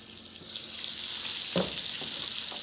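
An over easy egg and pork sausage frying in a pan for a breakfast sandwich, a steady bright sizzle that swells slightly, with a couple of soft utensil taps, close and alone.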